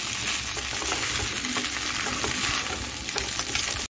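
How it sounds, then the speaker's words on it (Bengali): Vegetables with cumin are stirred in a frying pan while making chirer polao, a flattened-rice pulao. A constant close sizzle carries soft scraping strokes of a spoon throughout. "এখন আমি সবজির সঙ্গে হালকা হাতে জিরাটাকে মিশিয়ে নিচ্ছি।"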